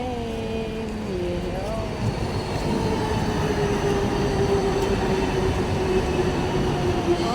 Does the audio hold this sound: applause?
no